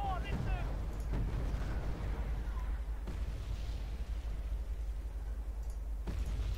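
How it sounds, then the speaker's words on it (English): CAESAR self-propelled artillery firing in the Wargame: Red Dragon video game, muffled booming shots and rumbling impacts over a continuous low battle din, with a voice talking across it. "that's my Caesars again. Firing at these, I believe."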